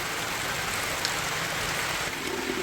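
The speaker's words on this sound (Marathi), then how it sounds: "आणि आता 6 वाजलेत आणि आत्ता पाऊस चालू झालाय." Steady rain pours down evenly, a soft continuous hiss with no voices or other sounds.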